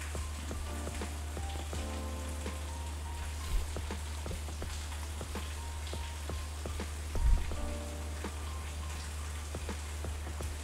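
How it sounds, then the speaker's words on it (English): Heavy thunderstorm rain from the anime film Your Name, a dense, steady hiss of falling drops on surfaces, fairly faint and continuous, over a low constant hum, with no talk. "It's raining too, like this is heavy."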